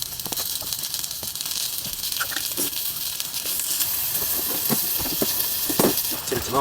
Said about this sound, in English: So I've got pepper, onion, and I'm going to put some oil in that and cook it.